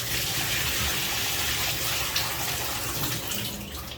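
Water gushes and pours out while an aquarium canister filter (Aquatop) full of fine aqua soil particulates is rinsed, a loud, steady close splashing rush that tails off near the end.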